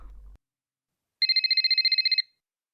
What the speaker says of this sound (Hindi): मम्मी का फोन बज रहा है